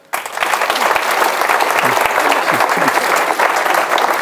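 A crowd gives a thunderous round of applause for fire brigade members at a local ceremony, loud sustained clapping starting abruptly and filling the whole stretch, with faint voices mixed underneath.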